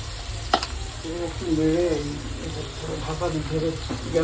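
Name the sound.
stirring spiced mixture in a pan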